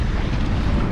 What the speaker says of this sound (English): The wind picked up